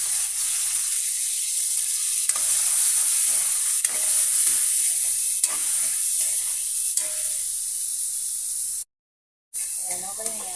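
Pork liver stir-fried in a hot pan sizzles with a continuous bright hiss, with stirring scrapes and small clatters breaking in, a brief dropout near the end, and cooking noise resuming afterward.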